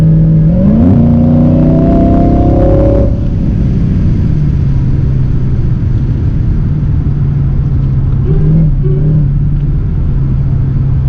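Cabin view of a supercharged Mercedes CL55 AMG under hard acceleration, engine rumble loud and steady with a rising whine climbing through the first seconds, then settling into a sustained drone.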